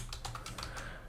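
Typing on a computer keyboard to enter a command in a Windows command prompt: a quick run of light key clicks over about a second, ending in a firmer keystroke, close and without voices.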